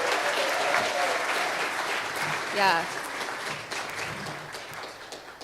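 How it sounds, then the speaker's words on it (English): An audience at a Sunrise Movement gathering in Asheville applauds youth speakers, dense sustained clapping mixed with crowd voices and a brief shout, fading gradually toward the end. "let's just give one more round of applause for our awesome youth speakers"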